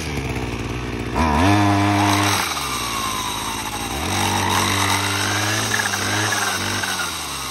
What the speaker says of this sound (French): Le disque est bloqué, on peut utiliser maintenant la débroussailleuse.